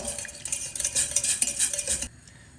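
A whisk clicks and scrapes rapidly against a pan as milk is beaten into a sauce mixture, a busy close metallic rattle that stops abruptly near the end.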